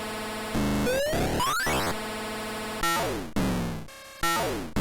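Harsh, loud Atari 2600 vertical shooter game effects: rising and falling electronic zaps and buzzy tones in rapid succession, dense and noisy.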